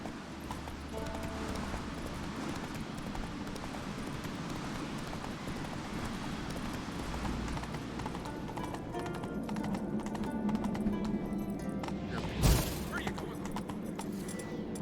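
In The Witcher 3, the horse Roach gallops with continuous rhythmic hoof clip-clops under game ambience, ending in a sharp impact near the end.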